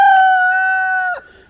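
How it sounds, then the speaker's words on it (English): A rooster on a homestead crows once, loud and close, a single sustained call that breaks off abruptly near the end with no other sounds around it. "I'm keeping the new rooster wherever he is."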